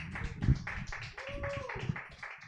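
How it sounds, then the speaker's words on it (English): A comedy-show audience claps steadily and fairly faintly for a comedian coming to the stage, with scattered taps mixed under a host's talk and a brief whoop. "keep clapping"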